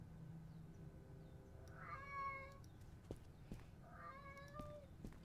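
A cat meows twice, a few seconds apart, each call a clear rising-and-falling cry over a quiet low hum, faint but distinct.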